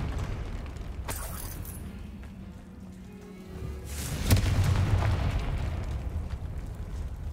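Confringo explosion spell in Hogwarts Legacy, a few sharp blasts and crackles, the strongest booming eruption arriving about two-thirds through and rumbling on afterward, with no talking.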